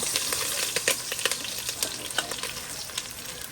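Garlic and onion cooking for sotanghon sizzle steadily in a hot pan, crackling densely throughout with small scraping stir strokes and pops, fairly close and continuous, with no talk.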